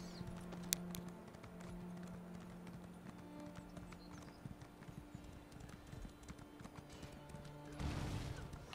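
A horse in an Elder Scrolls game clip-clops along steadily, its hooves giving a regular rhythm of soft thuds over a quiet ambient drone, with a louder rustling burst near the end.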